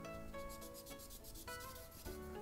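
A Japanese wakizashi blade is worked back and forth on a whetstone through slurry, producing a steady, close scraping rub with no pauses and no talking.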